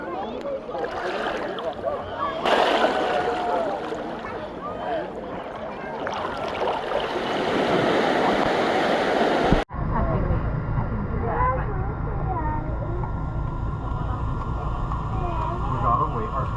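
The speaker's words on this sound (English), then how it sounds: "The ocean's loud." Loud, continuous churning ocean water surrounds a swimmer off Tortola in the Virgin Islands. The roar and rush are broken midway by a sharp dropout, and voices are faintly heard under it.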